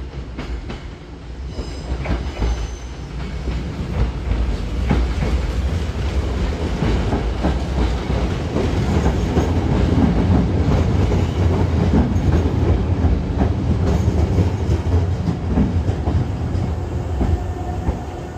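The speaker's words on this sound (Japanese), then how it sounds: "妙見口行きが到着します。" A Nose Electric Railway train bound for Myokenguchi pulling into Yamashita station, a loud close rumble of wheels and motors with clattering rail joints building and holding steady as the cars roll along the platform, no voices.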